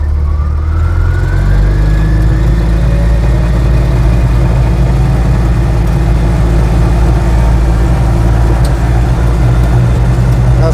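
An Invacar engine runs continuously while driving with a slightly sticking rear brake, producing a loud, steady drone and rumble up close with a rising whine, and no talk.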